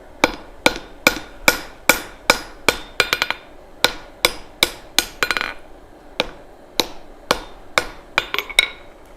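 A hammer rings on hot steel at an anvil while an axe is forged, about twenty sharp metallic blows in a steady rhythm with a few quick double taps, loud and close, with no talk.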